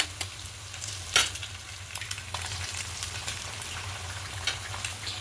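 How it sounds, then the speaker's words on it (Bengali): Faint, steady frying sizzle from a hot pan with an egg cracked in alongside chopped green chilies, broken by a few soft clinks and scrapes, with a low hum underneath and no voices. "এবার একটা ডিম ফাটিয়ে দেবো।"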